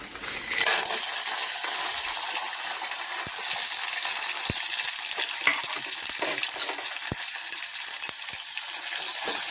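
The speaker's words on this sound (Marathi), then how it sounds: "शेंगदाणे पण आपल्याला छान तळून घ्यायचे" Peanuts fry in a pan for a spicy green chilli thecha, a constant crackling sizzle with sharp clicks and taps from stirring scattered throughout, close and fairly loud.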